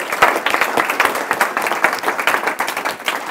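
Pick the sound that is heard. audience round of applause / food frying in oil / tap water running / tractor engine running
audience round of applause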